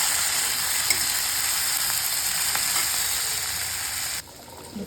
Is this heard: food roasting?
yes